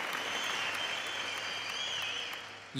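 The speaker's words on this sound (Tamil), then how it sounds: "இதுக்கு நிஜமாவே நம்ம நல்ல கைத்தட்டல் கொடுக்கணும்" Studio audience at a Tamil television talk show breaks into sustained applause, a dense continuous wash of clapping at steady moderate loudness that carries on for the whole stretch without talk.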